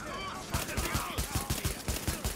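Rapid rifle fire in the video game The Division, a string of sharp, evenly spaced shots in a steady burst, loud and close, with a faint voice underneath at the start.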